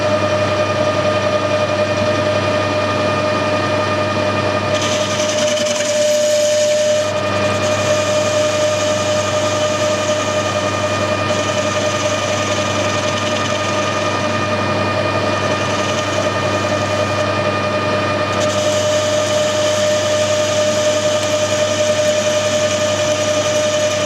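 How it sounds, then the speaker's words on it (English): A lathe faces a camera mount jack wheel, its steady motor hum and whine running continuously at close range with a brief shift in cutting noise midway. "the first thing is to machine this face flat, centre drill it and put a centre in"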